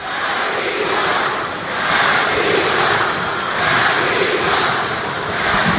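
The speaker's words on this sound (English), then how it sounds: "You can hear them, the crowd chanting for MC47." An arena crowd at a Barangay Ginebra versus Talk 'N Text basketball game chants for MC47 in the final minutes, a steady, swelling roar of many voices with rising and falling waves.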